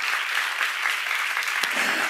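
A church congregation clapping hands together at a seminar, a dense, even burst of many hands applauding in a hall, loud and sustained with no speech over it.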